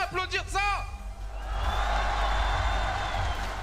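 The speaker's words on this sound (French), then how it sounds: "on peut déjà applaudir ça" An audience at a live show breaks into applause and cheering, a dense wash of clapping swelling after a short burst of whooping, with an announcer's voice at the start.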